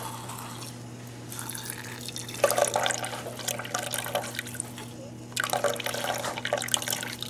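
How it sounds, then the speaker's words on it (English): DI water squirts in bursts from a squirt bottle, rinsing soil along the edges of a hydrometer lab container, with splashy hissing spurts over a steady low background hum. "you take your DI water squirt bottle and you get all along the edges."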